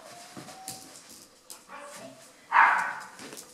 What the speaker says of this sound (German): Und du bist ein kleiner Chihuahua